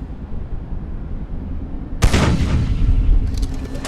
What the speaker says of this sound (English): Putting shots into his turret.